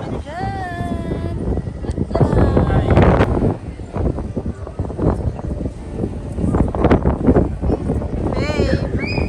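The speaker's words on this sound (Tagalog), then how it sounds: "Sobrang lakas ng hangin dito." Strong wind buffets a microphone with a loud, rushing roar, and voices can be heard talking underneath the gusts.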